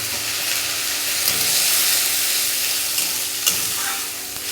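Onions and spices sizzle steadily in a pan on a gas stove, a close, dense frying hiss with a couple of soft stirring knocks, no voices present.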